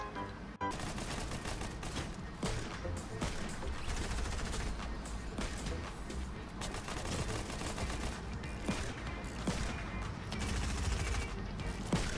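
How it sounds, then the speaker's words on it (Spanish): Sustained bursts of gunfire in a Fortnite match as Lara Croft opens fire, dense overlapping shots running steadily at a loud, constant level throughout. "Esta Lara Croft me está disparando"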